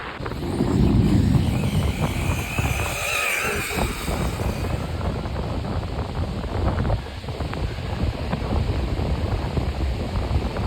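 A Team Corally Jambo RC car on a beach doing a flyby wheelie, its motor whine buried under heavy wind buffeting and surf noise, a brief swell passing by early before a steady windy roar.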